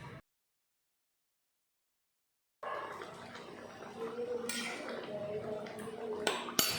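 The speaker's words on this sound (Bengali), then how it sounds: "এখন ভালো করে মিশিয়ে নেব।" Fish curry with taro (maan kochu) being stirred and mixed in a pot, a spoon scraping and clinking against the metal after a brief silence, fairly close and moderately loud.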